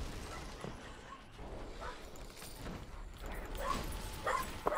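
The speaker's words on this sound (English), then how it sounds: "My dogs go mental." Dogs bark and yip in short bursts somewhere nearby, fairly faint over a noisy background, with a few sharper yelps toward the end.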